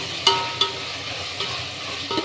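Vegetable pieces frying in oil in a pan for sambar, being stirred with a spoon that gives a few sharp scraping clicks over a steady soft sizzle, close by.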